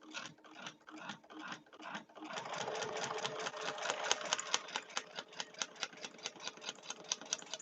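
Sewing machine stitching slowly through thick foundation paper piecing layers, a rapid mechanical chatter that starts in halting bursts then settles into a steady run, close and moderately quiet.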